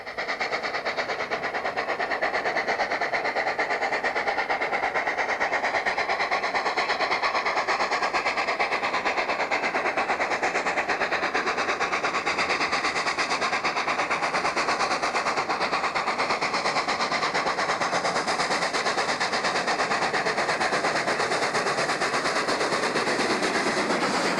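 Steam locomotives DJ and 3467 labor up the 1 in 100 grade out of Orange River, South Africa, on a cold, wet June day in 1990, rapid exhaust beats and clatter forming a loud, continuous rhythmic roar.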